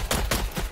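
Rapid gunfire aimed at a mummy in the Strange Brigade video game: three quick, punchy shots in under a second, fairly close and alone with no talk.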